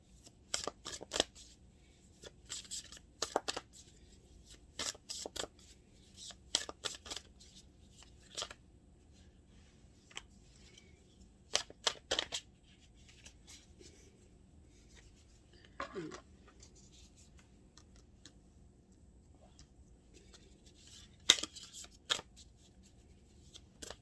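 Tarot clarifier cards are slapped and slid down onto a surface in quiet, scattered bursts of soft papery taps and rustles, close up, with a low background hum between them.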